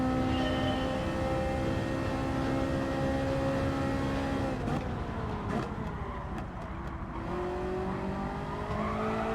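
A race car in Gran Turismo 7 holds a loud, steady engine drone, dips briefly as it takes the corner, then climbs in pitch as it powers out, with some tire squeal.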